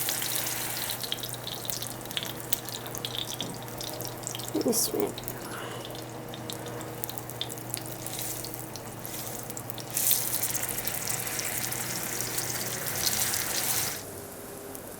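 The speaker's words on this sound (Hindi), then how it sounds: "आप इसको लो मीडियम फ्लेम पे फ्राई करें ताकि ये क्रिस्पी सा बने" Chicken toast frying in a pan on a low-medium flame gives a steady, soft sizzling hiss with a few brief louder crackles, and a voice speaks briefly.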